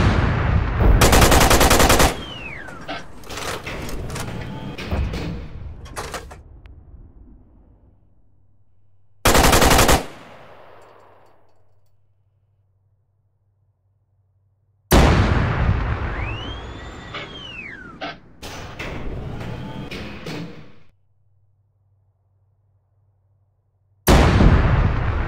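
Gunfire in an online shooter match on the Beketov map, long loud bursts of rapid automatic fire alternating with short sharp volleys and near-silent gaps, with a rising whine and distant rumbles between.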